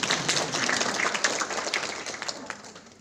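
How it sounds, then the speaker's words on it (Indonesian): Audience applause at an Indonesian teachers' event, a steady wash of many hands clapping at moderate volume for about three seconds, gradually thinning toward the end. "Tepuk tangan yang ketiga."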